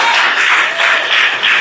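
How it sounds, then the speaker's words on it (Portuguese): A church congregation claps together in a dense, steady wash of applause that fills the room for a short burst, loud and close without pauses. "Pode aplaudir que é para Ele."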